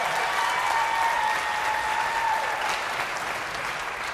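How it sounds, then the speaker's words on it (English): Studio audience applause at a live comedy show, a dense, even roar of clapping that holds steady throughout and tapers slightly at the end, with no talk over it. "Clap for that."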